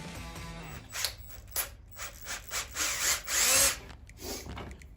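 Power drill boring through two stacked wooden boards while building a cornhole board: bursts of whining, grinding drilling that rise and stop several times, loudest near the end, with no talking.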